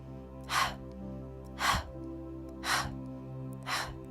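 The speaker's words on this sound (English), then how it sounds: "Big exhales." Four big, breathy exhales during a gentle hatha yoga session, evenly spaced about a second apart over steady background music, each a soft whooshing breath out.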